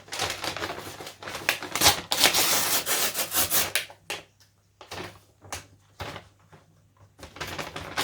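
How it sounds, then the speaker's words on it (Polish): A LEGO Botanicals 30701 set package is opened up close, with bursts of crinkling, rustling and tearing packaging, then short scattered handling rustles separated by quiet pauses. "A my otwieramy już paczkę."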